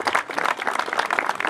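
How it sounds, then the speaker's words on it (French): An outdoor audience at a park inauguration applauding a group of children, a brief burst of many hands clapping in a brisk, uneven patter, fairly close and loud. "On peut les applaudir."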